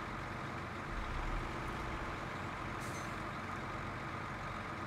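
Truck reversing beeps from the video game SnowRunner, a faint repeating tone riding over a steady low engine drone and rumble throughout.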